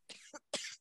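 A person gives two quick coughs, close and fairly quiet, in an otherwise silent moment.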